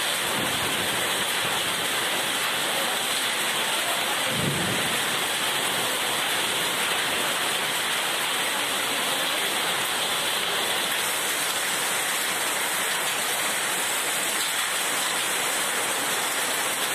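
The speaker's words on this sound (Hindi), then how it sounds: "शाम को 6 बजे के करीब शहर में जमकर आंधी तूफान के साथ जमकर बारिश हुई" Heavy rain in a city during an evening thunderstorm pours down as a loud, steady hiss with no break, and a brief low rumble comes about a third of the way in.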